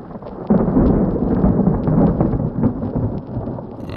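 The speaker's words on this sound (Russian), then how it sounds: "засверкали молнии. С неба упала вода на бульвар." Thunderstorm with rolling thunder and steady rain, heard as a loud, continuous low rumble and wash of rainfall that swells after the first half second and keeps going, with no voices.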